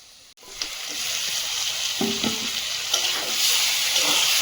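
Chicken pieces hit a sautéed masala in a hot pan and start frying, a loud steady sizzle rising quickly and holding, with a few stirring scrapes.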